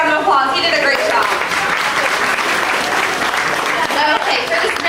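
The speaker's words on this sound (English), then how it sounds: "So go ahead and give Perry a big round of applause." An audience claps on a studio backlot tour. The applause is steady and dense, close and loud, and runs for the whole stretch.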